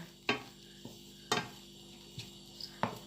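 Minced shrimp is stirred as it cooks in a pan, heard as a handful of quiet scraping clicks at irregular intervals over a faint background hum.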